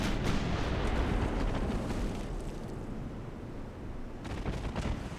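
Naval gunfire in the Ultimate Admiral Dreadnoughts warship game: a dense, continuous roar of blasts and rumbling impacts that dips slightly mid-way and swells again near the end, with no talk.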